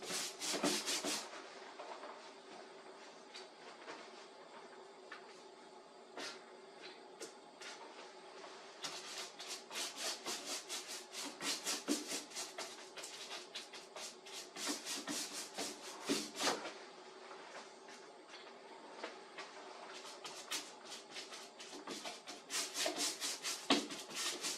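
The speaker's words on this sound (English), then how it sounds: "And wiping it off, it just brings out a lot of nice detail in the brick." Repeated rubbing strokes of a rag wiping paint off an MDF faux brick panel in a laundry room remodel, a steady scrubbing texture with bursts of harsher, faster rubs, close and alone with no talk.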